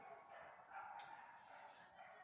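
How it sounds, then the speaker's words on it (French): Dogs bark somewhere far off outdoors, faint, muffled yips under a steady hiss, with one slightly sharper bark partway through. "Il y a des chiens qui aboient là."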